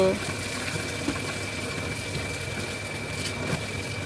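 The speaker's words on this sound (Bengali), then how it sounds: "আবার ফের পাম্পটাকে চালিয়েছি" An electric water pump runs steadily in a household setting, water filling with a continuous rushing hiss and a faint steady hum, close and constant throughout.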